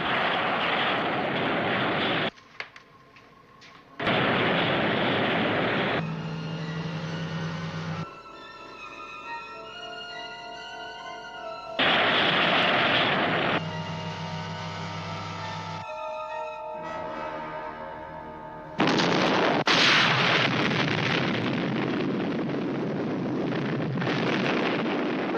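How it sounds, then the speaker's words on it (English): Sci-fi missile launch from a planet followed by space-battle explosions, loud roaring bursts that cut in and out with electronic tones between blasts, no voices. "Missile launch from planet Beta."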